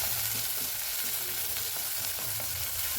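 Sliced small shallots sautéing in a pan for a spinach gravy, a steady close sizzle and crackle with faint stirring scrapes, no voices.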